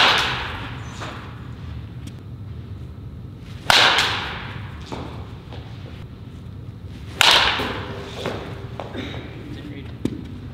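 Two sharp cracks of a baseball bat meeting a live-pitched ball ring out a few seconds apart, with quieter taps and outdoor voices in between.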